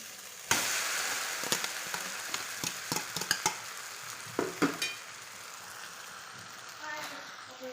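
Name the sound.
stirring boiled noodles in a pan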